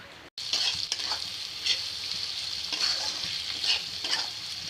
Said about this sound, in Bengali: পেঁয়াজগুলো কড়াইতে দিয়েছি, তেলের ভিতর দিয়ে দিছি।